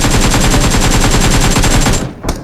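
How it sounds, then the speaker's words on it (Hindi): Rapid automatic gunfire from a battle royale-style video game rattles in a loud continuous burst for about two seconds, then cuts off, followed by one more short shot. "यहाँ पे मेरे पे हर तरफ से गोलियाँ चल रही थी"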